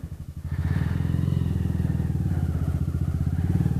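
A lowered, stretched, unmodified stock Kawasaki Z125 motorcycle rides on a kart track, its small engine droning loud and close with a steady pulsing rhythm throughout.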